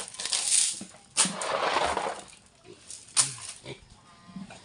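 A sow grunts and snuffles nearby in a noisy pen with piglets, with a few sharper squeal-like bursts and rustling in between.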